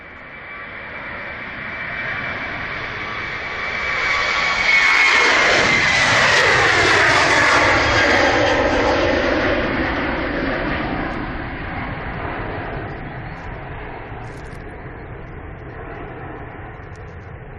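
A fixed-wing airliner taxis at Manchester Airport, its engine whine swelling as it passes close by, then easing off into a steady, fading drone.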